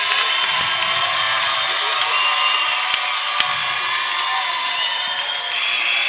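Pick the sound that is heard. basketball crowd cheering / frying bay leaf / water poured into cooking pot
basketball crowd cheering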